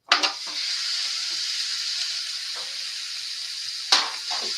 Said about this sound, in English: While it's boiling, it's going to pull out all that salt.